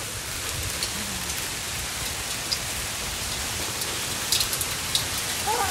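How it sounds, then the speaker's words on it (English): Heavy hail pelting down in Breckenridge, Colorado, a dense, steady hiss of impacts with sharper close clicks and knocks scattered through, continuous and loud without any talking. "out of nowhere, it starts hailing like crazy"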